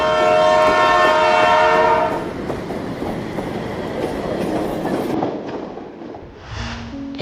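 A train pulls into a station in Bangladesh, opening with a loud, sustained horn blast for about two seconds, followed by a heavy rumbling roll of wheels and carriages that fades toward the end.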